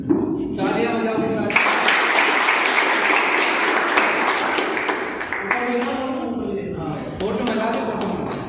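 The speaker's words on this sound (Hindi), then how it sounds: "तालियां हो जाओ।" Audience clapping at a coaching-institute celebration, a dense, steady burst of applause lasting most of the stretch, with voices talking and someone speaking over it in brief pauses.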